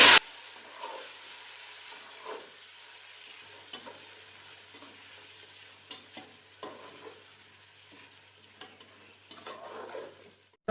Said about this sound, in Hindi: और अब हम इसके अंदर चिकन डालेंगे, ठीक है। अब इसे फ्राई करेंगे इसके अंदर।